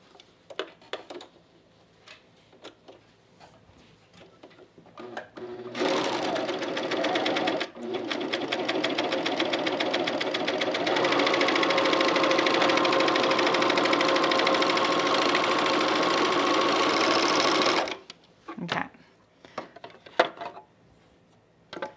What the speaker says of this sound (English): let's do a little test sew.